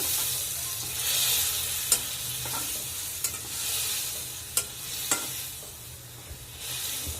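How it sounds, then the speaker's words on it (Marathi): Soaked chana dal stirred into ridge gourd frying in a pan, a steady close sizzle with repeated spoon scrapes and sharp taps against the pan, no voices. "हरभऱ्याची डाळ जी भिजवली होती ती मी आता याच्यामध्ये टाकली आहे परत हलवून यायचं"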